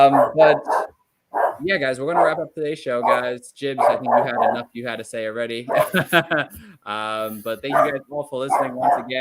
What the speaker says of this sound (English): Sorry about the dog, but he's our mascot